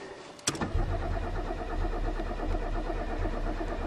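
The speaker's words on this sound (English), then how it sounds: "You're a Chevy. You've always started." A 1990 Chevrolet Celebrity Eurosport with a 3.1 engine starts in deep winter snow. A short starter crank catches at once, and the engine settles into a steady, loud idle close by.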